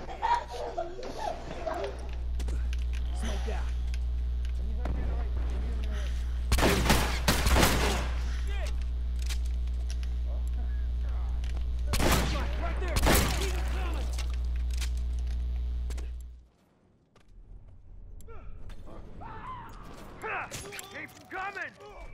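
Bursts of gunfire from The Last of Us Remastered, several clustered volleys cutting through steady game ambience, with a player talking intermittently over the shooting.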